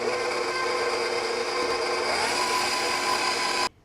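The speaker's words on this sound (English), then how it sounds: "I'm going to mix this until it's combined and then let the mixer run for about 5 to 8 minutes to knead" A stand mixer kneading homemade cinnamon roll dough runs with a steady, loud motor whir and faint hum, cutting off abruptly at the end with no talk.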